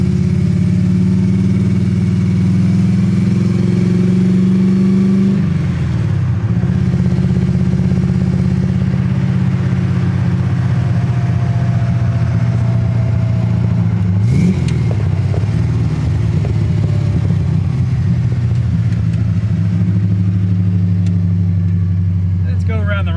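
An EFI-converted AMX car engine pulls at low throttle while driving. The drone is steady and moderately loud, with two brief dips and recoveries in pitch as it shifts and picks up again.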